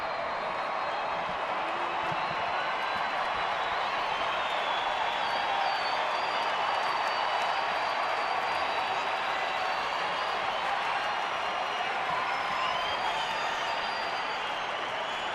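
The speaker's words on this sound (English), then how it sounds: "Crowd getting behind Trevor Cahill." A baseball stadium crowd keeps up a constant, dense roar and clapping for pitcher Trevor Cahill, a broad wash of noise that never lets up.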